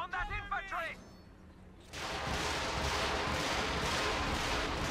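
Artillery barrage in Company of Heroes 2 pounding riflemen, a continuous roar of shell blasts and rumbling explosions that follows a brief moment of talk and then fills the rest of the clip.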